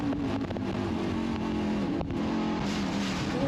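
Stock cars of the NASCAR Australia series at Winton Raceway roar down into turn 1, a continuous loud engine drone with several cars blending at mid distance and no talking.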